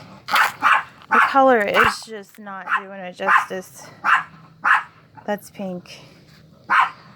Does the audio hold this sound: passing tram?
no